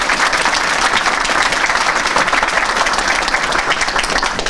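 Loud, dense audience applause at a Turkish political campaign visit for an AK Parti metropolitan mayoral candidate, steady continuous clapping filling the whole stretch with no voices on top.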